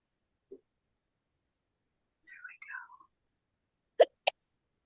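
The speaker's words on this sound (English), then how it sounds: "Does someone have the hiccups?" A person hiccups a couple of times, short sharp bursts near the end, after a faint whispered sound amid otherwise quiet surroundings.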